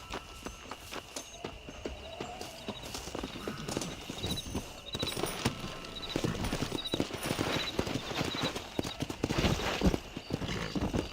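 Horse hooves clip-clopping as a rider gallops in the video game Red Dead Redemption, a fast, steady rhythm of close hoofbeats building in loudness over ambient game sound.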